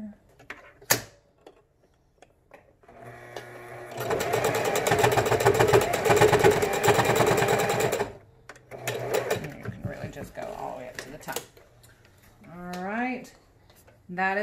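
Sewing machine stitches along fabric edging to reinforce it against fraying, a steady mechanical whir running about four seconds, with short stops and a voice talking before and after.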